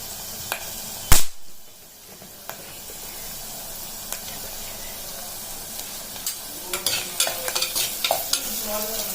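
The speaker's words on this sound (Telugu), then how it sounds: "కొంచెం ఆనియన్స్ వేగాలి" Onions sizzle and fry in a pan for prawn curry, a steady hiss broken by a sharp burst early on and later by scraping stirs, heard close.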